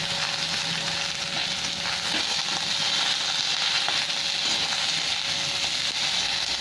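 Thinly sliced potatoes and pointed gourd frying in hot oil give off a steady, loud, hissing sizzle that holds without a break, close by.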